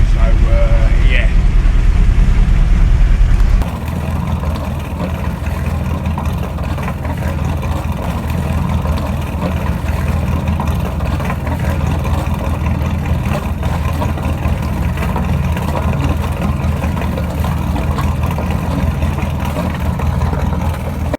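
Both engines of a boat run steadily at idle, a continuous low rumbling drone that fills the whole stretch, close and loud, with someone talking over it.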